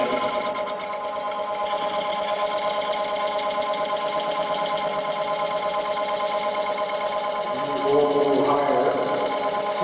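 Wood turning tool shearing into spinning wood on a lathe gives a steady buzzing, whirring cut, close and continuous, with a rougher change near the end; a voice speaks faintly underneath.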